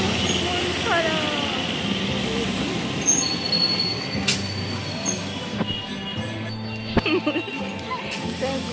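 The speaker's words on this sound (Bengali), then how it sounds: "তো আমি স্টেশনে এসে গেছি, স্টেশনে এসেছি, ট্রেন ধরবো।" A train at Sealdah railway station grinds along with high, drawn-out wheel squeals, metallic clanks and a sharp bang amid busy platform noise, while people talk in the background.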